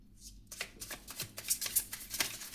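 Tarot cards shuffled by hand before drawing, a quick close series of papery riffles and soft slaps over about two seconds, fairly quiet and heard alone.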